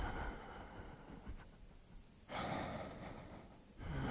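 During a yoga exercise, a person breathes out in long, close, airy exhales, with a short pause between breaths.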